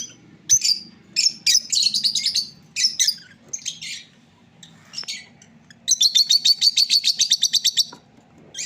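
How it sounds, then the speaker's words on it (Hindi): Pet lovebird parrots chirp in loud, rapid bursts of high tweets, several separate runs with brief pauses and a long steady chattering stretch near the end, over a faint low background hum. "तो तोता ये बैठा हुआ है।"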